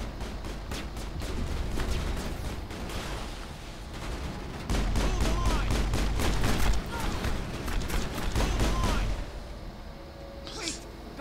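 Turret gunfire from the Mass Effect video game on PC, rapid repeated shots in dense bursts with a louder stretch in the middle, layered with game effects, then tapering off near the end.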